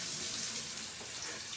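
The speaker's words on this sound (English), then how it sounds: "I'm going to wash the spoon" Tap water running into a sink while a spoon is washed, a steady close hiss and splash of flowing water with no talking.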